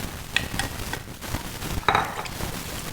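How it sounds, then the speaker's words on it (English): A spoon stirs a wild boar mixture in a pot, giving a few scraping clinks against the metal with a soft sizzle beneath and a sharper scrape near the end, no talking. "Alright, we're going to stir again."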